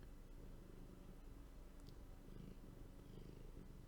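A cat purrs softly and continuously, close by and quiet, in a steady rumbling rhythm with no other sounds.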